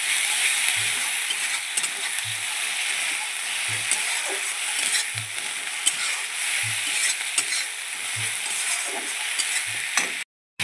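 Onion and tomato paste fry in hot oil for a chela fish curry, hissing steadily while a spoon stirs the pan in soft, regular knocks every second or so.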